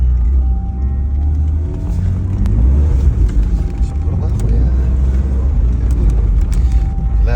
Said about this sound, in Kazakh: Машинаның дауысы осындай.